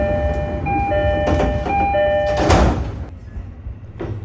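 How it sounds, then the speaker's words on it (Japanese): A JR E531 series local train pulls out of Oyama Station, with a steady low rumble of motors and wheels, a few tonal whines holding through the first half, and a brief louder burst of rolling noise near the middle. "小山駅を発車。"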